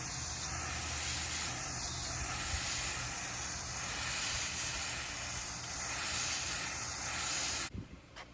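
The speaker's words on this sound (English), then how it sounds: "I'm just going to make my way all around this thing and rinse it out really good" Water sprayed from a hose nozzle to rinse out the core of a Honeywell ERV5150E1000 energy recovery ventilator, a steady close hiss with slight pulses as the stream moves around, cutting off abruptly near the end.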